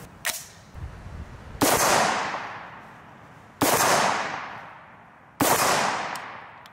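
Rifle gunshots ring out at close range: four sharp cracks, each trailing into a decaying echo, spaced about two seconds apart, loud and alone.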